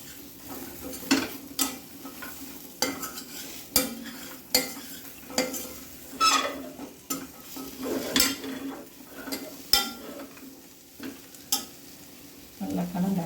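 Elephant foot yam tossed with masala powder in a pan, stirred with a metal spoon that scrapes and clinks in a steady run of close, fairly loud strokes over a soft sizzle.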